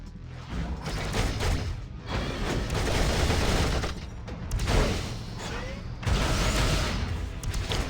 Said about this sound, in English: he got hit with that missile barrage